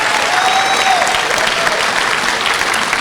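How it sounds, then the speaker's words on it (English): An audience at a gaming convention claps loudly and steadily for a few seconds, a dense wash of applause with a faint whoop rising through it. "let's all give him a big round of applause for being here today"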